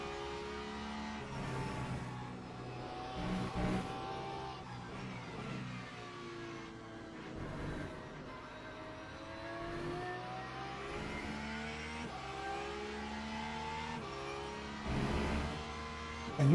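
A Porsche GT3 race car engine in the Le Mans Ultimate racing game at Portimão, revving up and down through gear changes at moderate level, throttle lifting and picking up again over a continuous drone.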